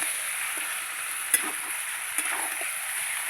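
Chicken frying in melted goat fat, stirred in the pot: a steady bright sizzle with a couple of soft scraping stirs, close and even throughout, no talk.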